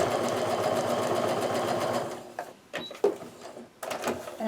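A sewing machine stitches a quilt block in a steady rapid whirring run that stops after about two seconds, followed by short bursts and clicks close at hand.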